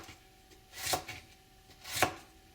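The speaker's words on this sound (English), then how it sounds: "I'm going to slice this thinly." A knife slices thinly through baby bok choy on a cutting board, two crisp separate cuts about a second apart, close and clear with no talking.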